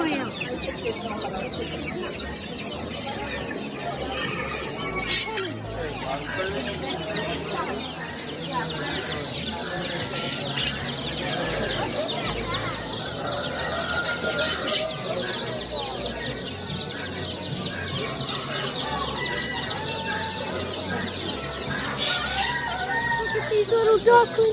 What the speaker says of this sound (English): Here's some button quail.